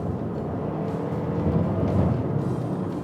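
A 2021 Suzuki Across plug-in hybrid accelerates hard, its engine a steady, rising drone heard from inside the cabin, moderately loud and without speech.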